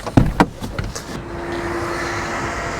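A Volkswagen Golf 8.5 with a 1.5 eTSI engine and DSG gearbox is switched off after idling: a few sharp clunks and clicks up front, then a low steady hum settles in and carries on.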